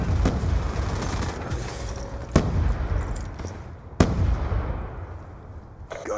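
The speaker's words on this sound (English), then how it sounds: "Grenade, move! A bomb." Explosive blasts and gunfire crackle through a Call of Duty Black Ops 2 team deathmatch in a skatepark, with two sharp booms standing out over a dense, continuous noisy bed of battle sounds.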